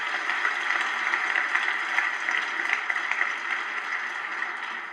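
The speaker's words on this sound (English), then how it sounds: "Let's give a round of applause to our Congresswoman for her efforts." A crowd applauds a congresswoman steadily for several seconds, a dense, even wash of clapping with no voices.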